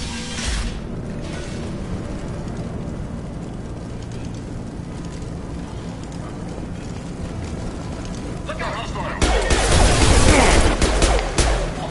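Gunfire from Blue Suns mercenaries and Vorcha in the game Mass Effect 2, a dense continuous barrage under background game noise that swells louder and brighter near the end.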